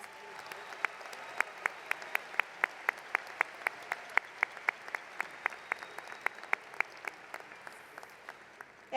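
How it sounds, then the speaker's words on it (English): Applause at a university commencement ceremony, heard as a steady run of sharp, evenly spaced claps at moderate distance, fairly faint, with no talk over it. "Please join me in showing our appreciation with a round of applause for their efforts."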